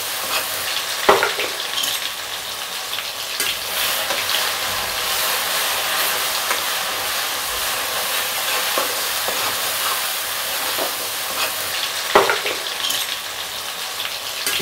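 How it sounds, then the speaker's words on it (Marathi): Spicy egg bhurji sizzles steadily in an uncovered pan while a spatula stirs it, with a continuous bright frying hiss and a couple of sharper scrape clicks near the start and end. "मिश्रण वर झाकण न ठेवता त्याला सलग पराठ्याच्या साहाय्याने हलवत राहू"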